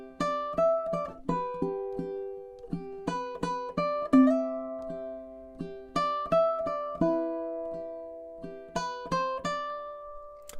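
A ukulele continues the Wayfaring Stranger arrangement with plucked notes reaching up the neck, ringing melody over gentle accompaniment, heard up close at a slow, even pace with no voices.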